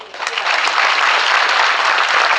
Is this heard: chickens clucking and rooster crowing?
no